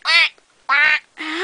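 A human voice imitates a duck, giving three loud nasal quacks in a row, each about a third of a second long with short gaps between them, the last one drawn out with a rising tone.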